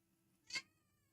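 A pet cat gives a single clear meow at a door, one short rising-and-falling call standing alone against a quiet room.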